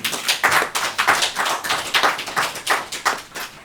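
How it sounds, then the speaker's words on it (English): A small audience claps for a guest speaker at a talk, a steady patter of separate hand claps running the whole time without any voices. "Can we give him a round of applause, please?"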